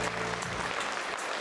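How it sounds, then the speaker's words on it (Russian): Applause at a children's music school year-end concert in Kalachinsk, Omsk region, a dense, steady burst of clapping from the hall that follows a low-pitched tone fading out at the start. "Ваши аплодисменты, друзья."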